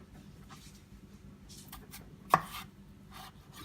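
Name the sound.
chopping a carrot with a knife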